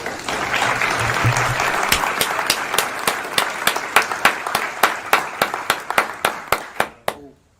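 Dense applause fades into a slowing run of about a dozen single sharp claps in steady rhythm before cutting off, close and loud, with a voice faintly underneath early on.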